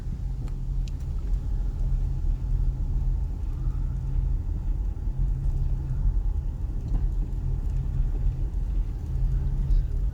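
A car drives through a quiet residential waterfront neighborhood at Leisure Beach, Hudson, Florida, its engine and road noise forming a steady, close, low rumble from start to finish.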